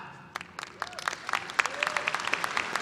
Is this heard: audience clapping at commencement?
yes